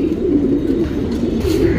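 A male Surmai pigeon coos steadily and close by, a low, throaty rolling call repeating without pause over a constant background hum.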